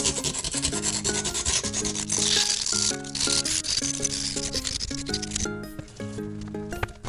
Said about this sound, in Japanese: 紙やすり、